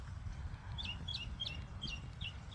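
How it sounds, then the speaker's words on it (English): A bird sings outdoors in a quiet, calm setting, repeating short bright chirping phrases roughly every half second over a steady low background rumble. "Sound of the bird sounds beautiful."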